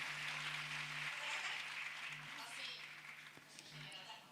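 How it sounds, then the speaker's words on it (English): An audience at an interviewers' congress applauds, a moderate wash of clapping that fades slightly, with a low electrical hum and a few faint tones underneath. "A round of applause for you,"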